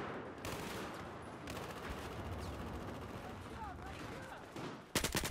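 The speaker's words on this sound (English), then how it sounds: "Some MTARs being used." MTAR rifle fire in a large Battlefield 4 Conquest battle: a steady wash of distant gunfire runs throughout at low level, ending in a sharper, nearer volley of rapid shots.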